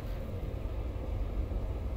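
Geological survey vehicle engine in the sci-fi horror game Moons of Madness cranking and running with a steady low rumble and hiss, continuous and moderately loud with no voices.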